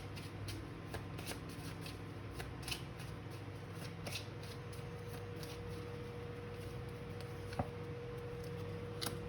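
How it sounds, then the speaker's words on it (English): Cards being shuffled repeatedly, soft riffling bursts and light flicks over a quiet steady background hum. "let's shuffle the cards here for you"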